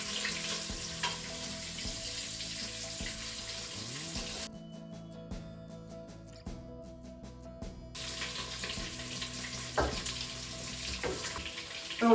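Salisbury steak patties sizzle quietly in a Crockpot Express, a low steady frying hiss that briefly drops away before returning with small scrapes and taps of a spatula.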